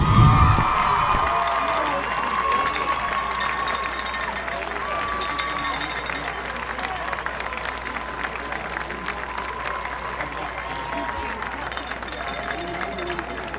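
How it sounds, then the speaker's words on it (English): Football stadium crowd at a college homecoming game cheering and clapping for the homecoming contestants, a loud sustained roar that swells at the start and continues steadily, with a voice over the public address system. "Let's have a big hand of applause for all of our homecoming contestants"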